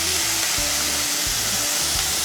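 Four onions frying in hot oil for kothu parotta, a steady close sizzle with soft crackle that continues unbroken, no voices present.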